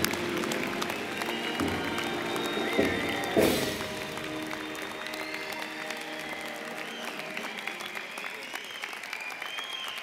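A commencement ceremony crowd applauds the dental medicine graduates with steady, moderately distant clapping that holds throughout, with faint voices mixed in.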